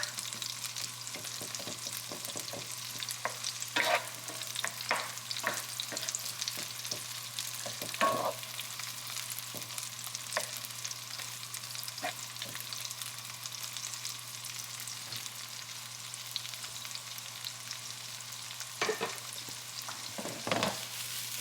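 Egg fried rice cooks on the highest heat with a steady, dense sizzle and hiss throughout, broken by scattered clicks and scrapes from stirring.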